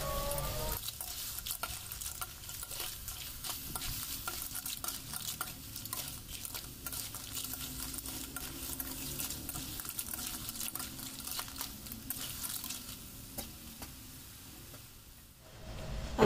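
Surf clams stir-fried in a pan, with a continuous close sizzle and frequent scraping and clinking of a utensil against the pan, steady throughout before quieting near the end.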